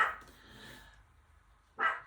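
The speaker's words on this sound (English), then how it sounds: "My next door neighbor still has a different dog over, and my dog is going crazy every time." An agitated pet dog barks indoors, stirred up by a visiting dog next door. Two sharp, close barks are split by a quiet pause of over a second.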